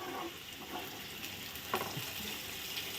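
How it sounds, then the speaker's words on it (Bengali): Gobindobhog rice frying in a pan with slit green chillies, a steady close sizzle with occasional scraping stirs of a spatula, moderately quiet and without talk. "গোবিন্দভোগ নুনিয়ার চালটা দিয়ে দিচ্ছি দিয়ে এখন ভালো করে ভেজে নেব চালটা লাল লাল করে"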